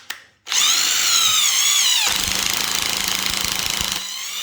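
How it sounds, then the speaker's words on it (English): A power drill whirs loudly and continuously, its pitch dipping as it bites into wood for a DIY console table, then steadying under load before briefly easing near the end. "I'm just going to go ahead and drill those in there"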